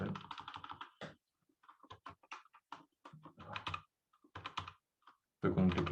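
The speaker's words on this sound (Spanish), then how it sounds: "Estoy con un teclado nuevo que no manejo muy bien aún." Someone types on a new computer keyboard during an online course session, producing bursts of quick, close clicks and taps that pause irregularly, with a louder flurry at the end.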